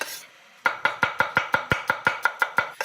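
A knife slicing garlic on a cutting board, a quick even run of about a dozen crisp close chops after a short quiet moment.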